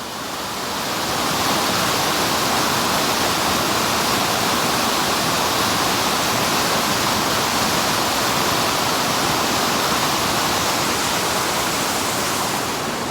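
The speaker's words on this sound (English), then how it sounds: "I guess it does classify as a waterfall." Steady, loud rush of falling water, a constant roar with no breaks and no voices.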